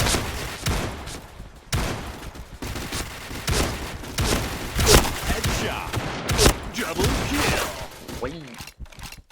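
Shotgun fire in a shooting video game from a high-capacity shotgun, loud close blasts in an irregular series with mechanical clacks between shots, and a voice talking over the action.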